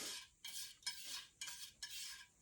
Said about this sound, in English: just mixing it on the palette like this